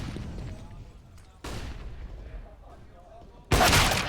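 Two sharp gunshots ring out in Counter-Strike on the Inferno map during a professional esports match, the second louder and more forceful, over a quiet murmur of background game ambience.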